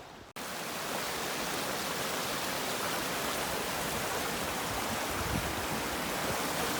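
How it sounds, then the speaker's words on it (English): A waterfall on the main river at Maligne Pass in Jasper roars as a loud, steady broadband rush. The noise is continuous and unbroken after a brief quiet start, with nothing else standing out. "let's see that waterfall"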